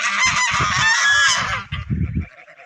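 Geese honk loudly in a dense, overlapping chorus, then the calls thin out into scattered honks that fade toward the end.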